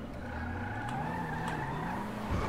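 A white car in GTA 5 drives with a steady engine drone and a long tire skid whose pitch slowly wavers, loud and continuous, with a brief bump near the end and no talk.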